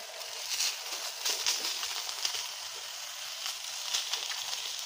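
Milkfish (bangus) hitting a hot stove makes a steady, fairly quiet sizzle with scattered crackles and pops, continuous and without talk.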